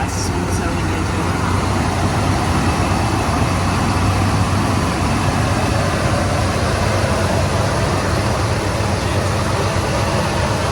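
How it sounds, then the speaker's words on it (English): A 1977 Chevy Scottsdale C10 pickup engine runs at a smooth, steady idle close to the microphone, with a short belt squeal at the very start and a continuous mechanical rumble throughout. "A little bit of belt squeal, but nice smooth sounding engine."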